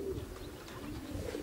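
A racing pigeon arriving at its loft after a race gives soft, low coos over a steady, quiet background hum.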